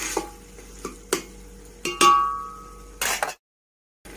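Garlic fries in a pan for a mutton curry, with a faint sizzle under sharp metallic clinks as a spoon stirs and scrapes the pan several times, then sudden silence.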